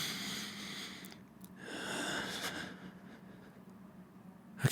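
A person takes deep, slow breaths to calm down, with a soft, close inhale and longer airy exhale ending in a brief sharp sound.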